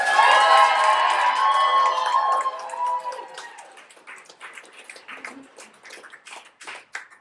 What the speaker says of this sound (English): how about a round of applause for everybody who's talking about?